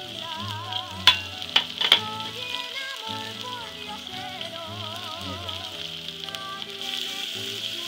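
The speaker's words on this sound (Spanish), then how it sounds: "Voy a echar a la cebolla, estoy friendo, le echo el ajo." Steady sizzling of onion and garlic frying in a pan, with a few sharp clinks of a utensil early on and music playing underneath.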